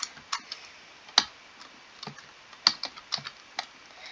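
Sparse, uneven keystrokes on a computer keyboard during a beginner JavaScript console.log demonstration, quiet, close clicks and taps with gaps between them and no talking.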